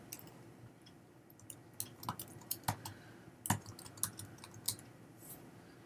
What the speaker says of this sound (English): Let's try typing in these keywords that might help us find that item.